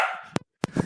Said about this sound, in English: Sorry, that's my therapy dog.